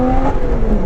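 A Lotus Exige S engine revs near the top of its range, a loud, sustained high-rpm snarl heard up close in a brief burst.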